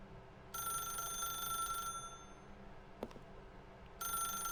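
A telephone rings in the video game The Stanley Parable, two bursts of bright electronic bell trilling separated by a pause with a small click, heard fairly quietly over a low background hum.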